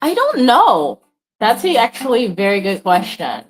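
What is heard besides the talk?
No distinct noise like a dog, phone or traffic.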